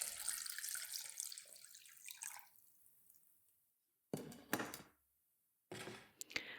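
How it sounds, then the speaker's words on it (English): Cold water runs steadily from a tap for a few seconds, then fades; short bursts of splashing follow in separate spurts as it is poured over eggs. "Once done, pour cold water over the eggs immediately."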